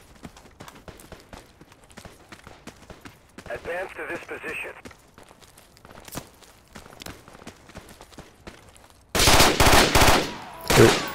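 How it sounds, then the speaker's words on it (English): Machine gun fire in the military shooter game Project Reality, with scattered footsteps and clicks before several loud rapid bursts near the end. "Got a machine gunner watching our position."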